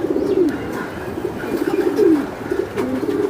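Racing pigeons on a pigeon farm coo softly and repeatedly nearby, low throaty warbles coming in a steady series with little else around them.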